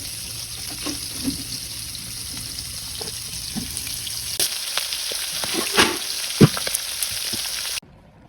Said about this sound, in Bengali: পাঙ্গাস মাছ ভাজা খুবই রিস্কের একটা কাজ